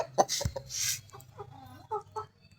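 Red-feathered rooster clucking nearby in a series of short, irregular calls with a couple of louder bursts, heard alone with no talk.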